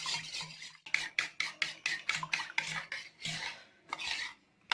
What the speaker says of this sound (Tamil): இப்போ 4 முட்டையை உடைச்சி எடுத்துக்கிட்டோம். இப்போ இதை நல்லா நம்ம பீட் பண்ணிக்கலாம்.